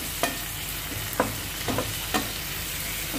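Tomatoes and sliced chillies frying with browned onions in a pan, a steady close sizzle broken by a few sharp scraping stirs.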